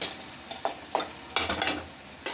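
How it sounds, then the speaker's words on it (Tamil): Onions and tomatoes sizzle in a hot pan while a utensil stirs and scrapes, giving several short clacks over a steady frying hiss, close up. "போட்டு நல்லா வதங்கட்டும்."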